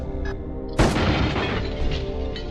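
A gun fired at RoboCop-like robot enemies in the video game Disruptor: one loud, booming blast with a rumbling tail, following a brief quieter sound, with no talk.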